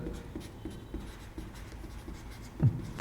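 Pen or marker strokes on a board as a mathematics teacher writes a topic heading, soft scratchy writing sounds running steadily with one louder tap near the end, no speech.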